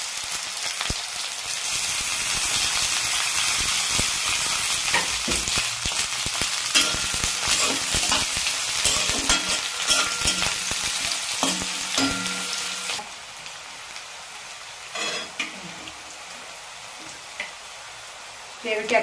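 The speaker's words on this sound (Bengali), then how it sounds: "এবার লম্বা লম্বা করে কাটা পেঁয়াজটা আমি তেলের মধ্যে ছেড়ে দেবো" Long-sliced onions drop into hot oil and fry loudly with a dense, continuous crackle and stirring scrapes, then the sizzle settles to a quieter hiss for the last few seconds.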